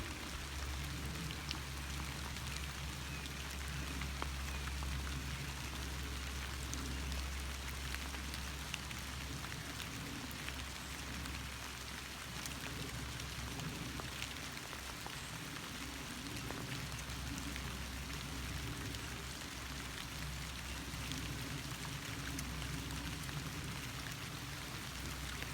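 Steady rain patters on a farm, a constant fine hiss of drops with scattered sharper ticks and low background rumble, continuous and even throughout with no voices.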